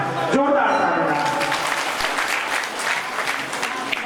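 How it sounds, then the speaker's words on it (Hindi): A temple audience at a Bhagwat Katha gives loud, dense applause that runs continuously for several seconds, with a voice speaking over it at the start. "जोरदार तालियां।"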